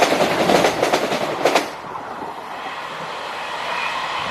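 A Sprinter train on the Breckland Line rushes past close by, loud rhythmic wheel clatter for about a second and a half before cutting off, leaving a faint distant hum.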